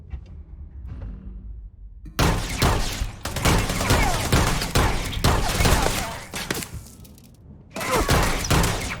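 Heavy gunfire in the space RPG Starfield: dense, loud volleys of rapid shots roar for several seconds after a quiet lead-in, drop briefly, then resume, with no voices heard.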